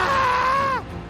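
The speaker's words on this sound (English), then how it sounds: "The Hydra's jaws tear into Talion's leg, and the Bard screams aloud." A bard screaming aloud as a sound effect: a single loud, sustained scream, held steady and then cut off abruptly, with no talk.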